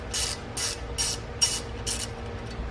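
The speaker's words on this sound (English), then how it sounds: "soak it with some penetrating oil" Penetrating oil sprayed from an aerosol can onto a seized T50 bolt during front brake work on a 2015+ Jaguar XE, five short, sharp hissing bursts in a steady rhythm, close to the mic, with no one talking.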